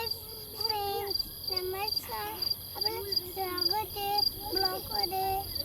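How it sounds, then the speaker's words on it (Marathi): Crickets chirp steadily at night on a farm in Qatar, a faint high continuous trill in the background, while people talk nearby over it. "रातकिड्यांचा आवाज येतोय बघा तुम्हाला"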